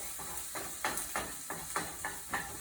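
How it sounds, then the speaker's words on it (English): Vegetables sauté in olive oil on low heat, a steady soft sizzle broken by regular stirring scrapes, about six evenly spaced strokes close by. "We're going to saute this entire meal, and we want to do it on low heat."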